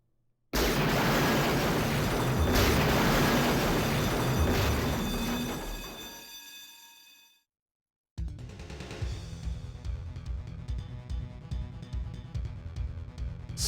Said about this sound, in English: Sudden explosion rocked the enormous hospital.